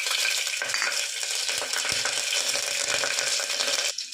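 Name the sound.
mustard seeds and cumin added to hot oil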